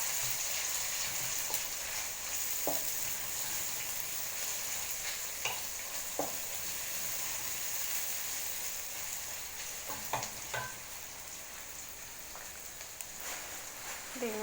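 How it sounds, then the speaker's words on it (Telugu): Ingredients for moong dal curry frying in a pan and being stirred, a steady close sizzle running throughout with occasional scraping clicks of the spoon against the pan. "వీటిని మంచిగా ఫ్రై చేయాలి. మంచిగా కలపాలండి."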